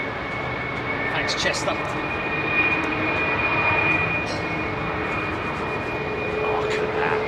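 Airliner engines at London Heathrow spool up with added thrust to climb a ramp, a steady broad drone with a high whine under loud commentary and brief chatter.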